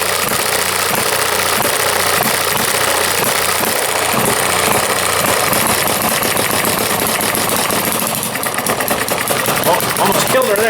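A warming engine idles loudly and close, a rough steady chugging rumble with a rapid mechanical knocking rhythm that shifts slightly near the end.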